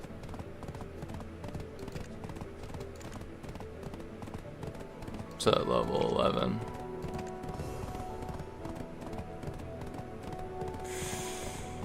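Donkey hooves clip-clop at a steady walking rhythm while riding in the online game Black Desert Online, with a brief louder burst midway, a continuous game soundtrack and someone talking over it.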